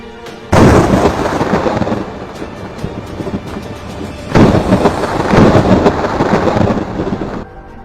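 Heavy thunder from a lightning storm in China rumbles in two long, loud rolling bursts, each starting with a sharp crack and sustained roar, with a steady storm wash between them and no voices.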